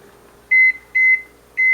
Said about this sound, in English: then that goes in the microwave